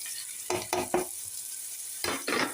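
Onion and garlic frying in a pan for pancit, with soft background sizzle and several bursts of louder stirring and scraping as the pieces are moved around; no one speaks.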